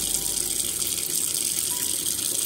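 Cold tap water runs steadily into a kitchen sink or bowl to soak fresh greens, a continuous close, bright gushing rush with no pauses and no talk.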